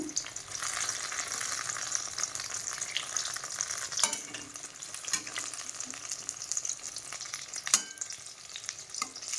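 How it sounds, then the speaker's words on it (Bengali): Brinjal slices fry in a hot pan, giving a steady close sizzle throughout with a few sharp clicks and scrapes of a utensil, and no voices. "বন্ধুরা আমার বেগুন ভাজিগুলো হয়ে গেছে, আমি তুলে নেব।"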